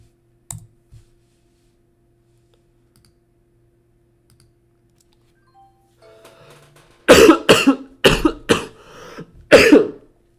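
A person coughs hard several times in a row near the microphone after a long near-silent stretch with faint clicks, the coughs coming in a tight cluster of loud bursts.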